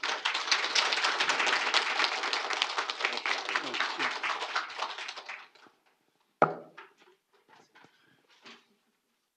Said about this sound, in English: let's give a big hand of a round of applause, Congressman Donald Rautenbacher